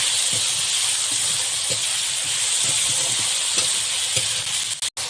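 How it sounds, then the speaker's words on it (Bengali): Eggplant frying in a pan: a steady, close hiss and sizzle of hot oil with occasional soft pops and clinks, continuous throughout. "এবার বেগুন ভাজবো"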